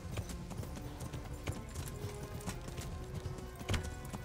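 Horse hooves clip-clopping at a steady run in the medieval game Kingdom Come: Deliverance, a continuous close rhythmic pounding with brief louder thuds, no talk over it.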